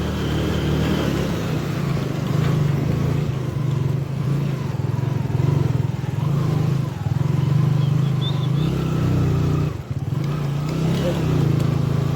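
A motorcycle labours uphill on a village road between Burgunj Khola and Khaimrang near Pokhara, its low engine drone steady and close with faint clatter, a brief dip near the end and possible talk mixed in.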